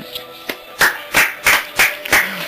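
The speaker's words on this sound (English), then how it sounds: "Yeah, you give it a little clap." Several sharp hand claps in a loose, uneven rhythm, a few quick light ones followed by five louder, evenly spaced claps, close to the microphone with no talking.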